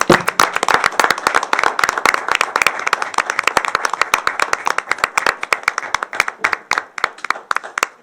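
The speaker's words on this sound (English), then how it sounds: "Let's give all of these another round of applause," A room of attendees at a Board of Education meeting gives a round of applause, a brisk, close and steady patter of many hands that loosens into separate claps before stopping.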